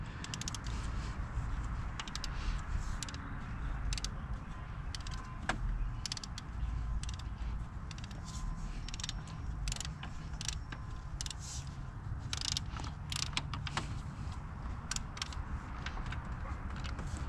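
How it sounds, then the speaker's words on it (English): A torque wrench tightens a bolt on a Ford 4.0 engine, giving quiet, irregular ratcheting clicks and creaks close by against a low background hum. "Alright, we can torque this down now."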